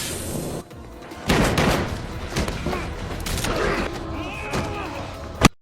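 Pistol gunfire from a P229 during a struggle with a terrorist leader in an action film, with several sharp reports and thuds over a dense, noisy movie soundtrack ending in a loud close bang.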